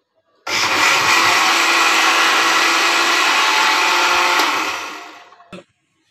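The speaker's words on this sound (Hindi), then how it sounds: "ऑन करो ग्राइंडर ऑन करो" An electric kitchen grinder, used in making a steamed chocolate cake, whirs loud and steady for about five seconds, then winds down and stops with a short click at the end.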